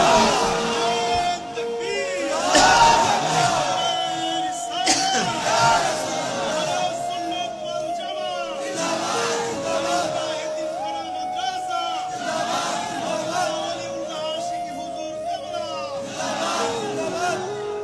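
Children at an orphanage chant slogans together in a loud, rhythmic group, voices rising and falling in repeated calls across a sustained crowd roar.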